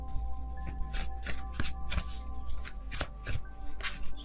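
Tarot cards being shuffled by hand, a steady run of close, crisp riffling and slapping bursts with no talking and a faint steady hum underneath.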